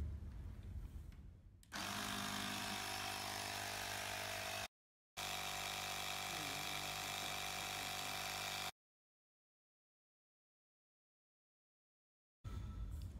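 A pump inflates wheelchair tyres toward 140 PSI in loud, steady buzzing bursts, one about three seconds long and another about four, broken by short and long silences.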